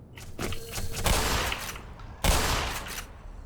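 Shotgun blasts from the Black Mesa game, two heavy booming shots roughly a second apart, each decaying into a noisy tail, close and loud with no talking.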